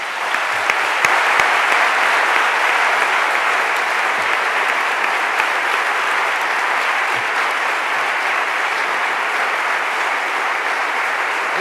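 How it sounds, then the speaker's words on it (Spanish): A large audience applauds at a Spanish-language book presentation, a thick, sustained wall of clapping that stays loud and steady from start to finish without a break. "Damos un aplauso a Carmen."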